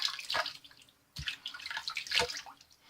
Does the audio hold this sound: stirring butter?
no